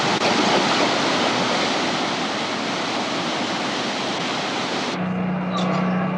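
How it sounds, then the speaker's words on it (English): Waterfall pouring into Milford Sound fjord, heard from a boat: a loud, steady broadband roar of falling water that fills the clip, ending abruptly near the close as a low engine hum remains. "It's a waterfall. We're on the boat now on the Milford Sound, which is a fjord."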